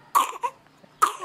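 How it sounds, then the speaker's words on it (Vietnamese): A baby coughs in a village home, two short sharp coughs a second apart with a smaller cough between them, close and clear. "Úi ho à."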